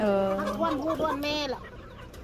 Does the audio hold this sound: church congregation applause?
no